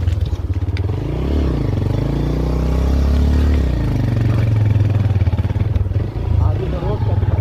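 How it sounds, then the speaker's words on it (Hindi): Motorcycle riding along a road from Bermis to Jutial, a steady close engine drone with rising and falling revs, rattles and clatter underneath, while people talk over it. "आगे बाइक से लेके जा रहा हूँ"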